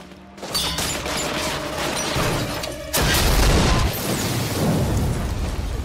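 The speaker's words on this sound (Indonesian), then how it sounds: "Akhirnya, ledakan besar pun terjadi." A loud, rumbling blast from a film explosion (Operation Red Sea) with broadband roar and debris-like crackle that swells sharply midway, then keeps churning without any voices.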